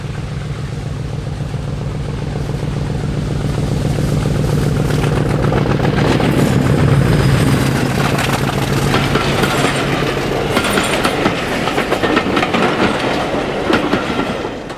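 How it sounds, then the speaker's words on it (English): A Class 50 diesel locomotive with its English Electric 16-cylinder engine pounds up the steep 1 in 37 gradient toward Bodmin, a loud, steady throbbing roar building as it nears, with wheels clattering over the rails. "her English Electric 16-cylinder engine makes a wonderful noise as she returns to Bodmin."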